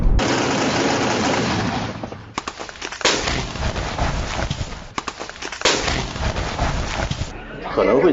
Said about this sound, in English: Heavy gunfire was also reported outside a United Nations base, sheltering thousands of civilians.